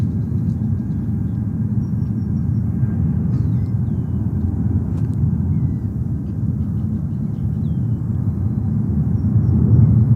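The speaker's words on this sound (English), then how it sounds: "And there we have a JetBlue. What is it, 320 taken off?" A JetBlue Airbus A320 jet takes off at JFK airport, a steady, continuous low roar of engine noise that holds level and swells slightly toward the end, with no talk over it.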